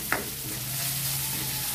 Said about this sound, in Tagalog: Stir fry lang natin.